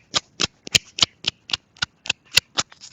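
Status Between Pro wireless earbuds clicking into place: about ten sharp, evenly spaced clicks in quick succession, close and crisp with nothing else around them.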